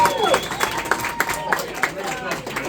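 Scattered clapping from a comedy club crowd answering a stand-up comic, individual claps spaced out and fairly close, with voices murmuring underneath.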